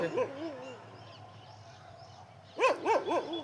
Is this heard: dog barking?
yes